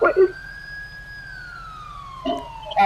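Vehicle siren in FiveM: a single steady wail rises slowly and then falls, fairly loud and up close, with short bursts of other noise at the start and end.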